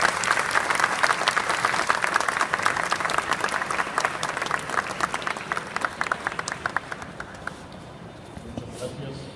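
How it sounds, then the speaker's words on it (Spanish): A live audience applauds to welcome Dr. Manuel Martínez Lavín at a talk in Guanajuato, sustained dense clapping from a crowd that stays steady for several seconds and then thins toward the end. "Un aplauso, por favor."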